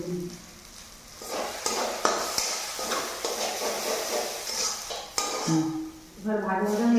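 Cumin, sugar and salt fry in a pan while making pea kachori, a steady close sizzle with stirring scrapes and utensil clinks against the pan.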